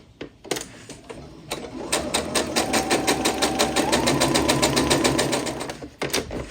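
A sewing machine stitches pieces of an eccentric star quilt block, its needle hammering in a fast, steady rhythm for several seconds after a few brief starts, close and loud with no talking.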